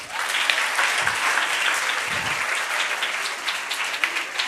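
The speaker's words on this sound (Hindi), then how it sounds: "ये खुशखबरी दिया है भाई, इस पे तो ताली बनती है।" Audience applause fills a hall at a career guidance talk, a dense steady clapping from many hands held at an even level for several seconds with no voices over it.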